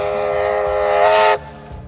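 A 1949 North British Locomotive Co. oil-firing 24 class steam locomotive sounds its whistle, a loud, steady chord-like blast that swells near the end and cuts off abruptly, followed by low rumbling.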